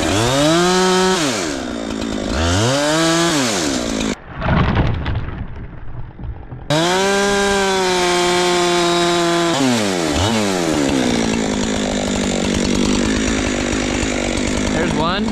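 A chainsaw cuts small maple hardwood into felling wedges out in the woods. The loud, close engine rises and falls in repeated revving cycles, and there is a brief quieter gap of knocking and handling midway.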